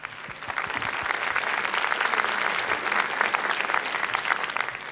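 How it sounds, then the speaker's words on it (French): A 1981 French television fan-show audience gives a contestant lively, sustained applause, dense and fairly loud, with a few sharper claps standing out near the start. "Viens Carole, on t'applaudit."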